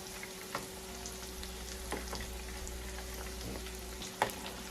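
Beef wontons deep frying in hot oil give a steady sizzling bed of bubbling, broken by a few soft clinks or turns as pieces are flipped, with no talking.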